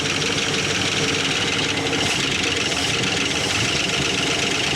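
Rough, uneven idle of a 1970 Dodge Charger engine that sat for 20 years, running with one rear cylinder not firing, loud and close in a continuous droning rumble.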